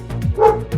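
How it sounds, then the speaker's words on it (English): A dog barks inside a parked car, three or four quick muffled barks and yips in close succession, fairly loud and near. "I do hear Lucky barking."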